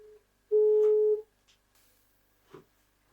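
A telephone line tone during a call to a witness, a single clean steady beep lasting about half a second, faint and close, followed by quiet line clicks.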